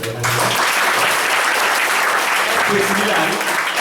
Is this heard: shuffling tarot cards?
no